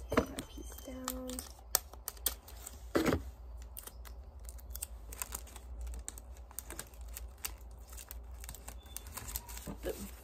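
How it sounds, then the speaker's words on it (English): Paper being taped down for a paper Christmas tree craft: close crinkling, tape pulls and small tapping rustles in a quiet room, with irregular soft clicks and brief light handling noises. "I'm just gonna tape that piece down really quick"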